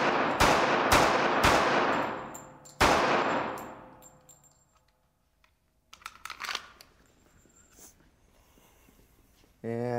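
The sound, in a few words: gunshots from a .45 pistol hitting lightweight body armor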